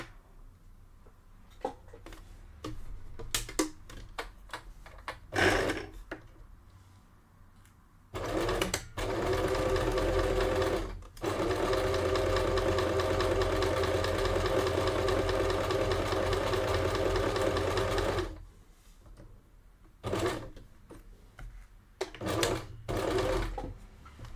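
A domestic sewing machine runs a straight stitch of medium length on black fabric for a bralette, heard as a loud, steady mechanical whirring in long runs broken by short pauses and handling clicks.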